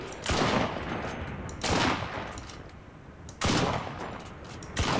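Gunfire in the video game Enlisted, with four loud bursts of rapid shots spaced about a second or more apart, each decaying into a noisy tail.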